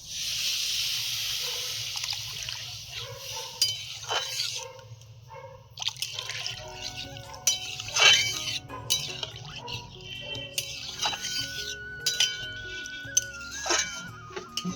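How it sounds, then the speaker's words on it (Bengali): Milk is poured into a pot for a rice-free cauliflower payesh: a steady close pouring hiss runs for several seconds, followed by scattered drips, clinks and stirring. "এবারে আমি দুধটা দিয়ে দেবো"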